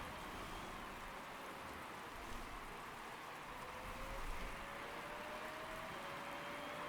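Steady rain pours over a race circuit in the Motorsport Manager racing game, a faint, even wash of rainfall with no distinct drops, heard alone throughout.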